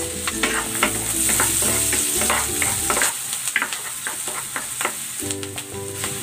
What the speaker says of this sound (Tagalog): Igigisa ko na tong bawang. Lagay na rin natin tong sibuyas.